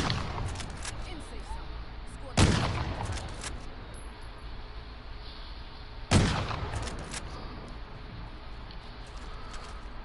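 Gunfire in a PS4 shooter, with two loud, sharp shots or blasts several seconds apart, each trailing off, over a low constant game background.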